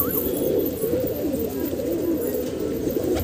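A female wild green pigeon on a rooftop coos in a low, steady murmur, close and continuous over a constant background hiss.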